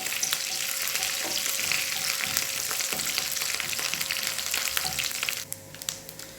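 Coconut pieces sauté in hot oil for a clam roast, giving a dense, continuous sizzle with scattered crackles and stirring scrapes, which eases off near the end; no one speaks.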